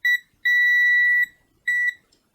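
A PC motherboard beeps because of a faulty graphics card, a GTX 960. Two quick shrill beeps are followed by one long tone and then a shorter beep, loud and clear against silence.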